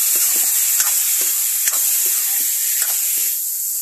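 Hot oil hisses steadily while mustard seeds pop and crackle in scattered bursts, close up with no talking.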